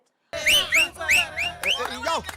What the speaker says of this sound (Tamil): அதிமுக நம்ம விசில் அடிச்சு கொண்டாட ஆரம்பிச்சிட்டாங்க